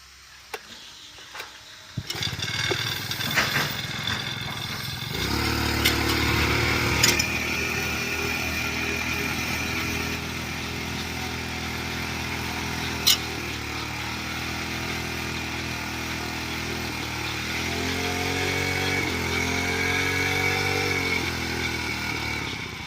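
An engine-powered five-row paddy weeder runs steadily after a quiet start, its loud motor drone rising slightly in pitch near the end, with a sharp click in the middle and no talk over it.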